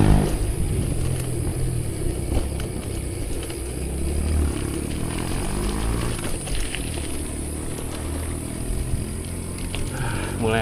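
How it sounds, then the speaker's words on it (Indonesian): A trail motorbike labours up a steep slope, its engine droning and straining steadily at mid distance under a rough outdoor rumble, with no clear speech. "Tuh, motor trail aja ngeden kok."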